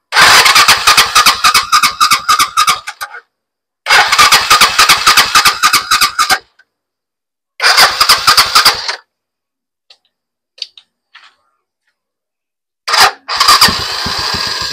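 A Euro 150 motorcycle with a repaired electric starter cranks in three loud, rapid bursts with pauses between them, followed by a brief faint clatter and then a final start that settles into running.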